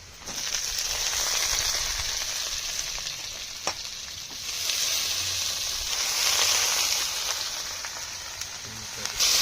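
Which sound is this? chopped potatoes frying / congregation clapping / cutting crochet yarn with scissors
chopped potatoes frying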